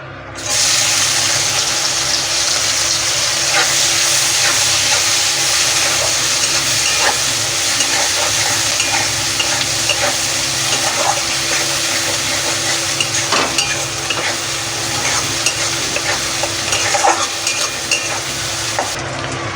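Onions hitting hot oil already tempered with whole cinnamon, cloves and cardamom for a water chestnut curry give a loud, dense, steady sizzle with stirring scrapes, continuous for about twenty seconds with no talking.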